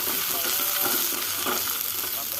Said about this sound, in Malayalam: എണ്ണ ചൂടായി ഒരു ടീസ്പൂൺ കടുക് ഇട്ട് കൊടുത്ത് കടുക് കൂട്ടി വരുമ്പോൾ 2 വറ്റൽമുളക് ഇട്ട് കൊടുത്ത് കുറച്ച് കരിവേപ്പില ഇട്ട് കൊടുക്കുക.